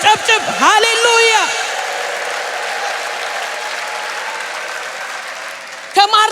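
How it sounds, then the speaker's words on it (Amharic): A church congregation bursts into sustained, dense clapping that fills most of the stretch, with a voice heard briefly at the start and again at the very end. "ማጨብጨብ የሚችል ያጨብጭብ"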